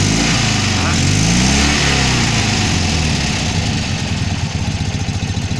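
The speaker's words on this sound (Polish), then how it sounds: "Dodaj mu trochę gazu." Polski Fiat 126p two-cylinder air-cooled engine revving up from idle, a loud close rising and falling engine note that settles back into a rapid uneven putter, with a person speaking briefly over it.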